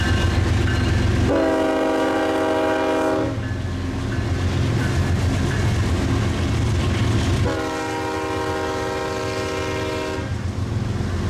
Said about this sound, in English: here I got a UP detour train southbound on the Iowa Northern line, old Rock Island line.